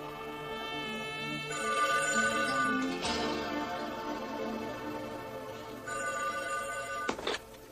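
A telephone bell rings repeatedly in a quiet room, a steady electronic ringing pattern with short pauses, close and fairly loud, with a brief handling clatter near the end as the receiver is picked up.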